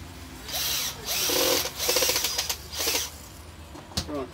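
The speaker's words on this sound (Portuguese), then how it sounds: "Desse lado aqui você bota o parafuso." A power drill drives a screw into a tire being made into a heron garden craft, sounding as several short whirring bursts, close and fairly loud, with brief pauses between them.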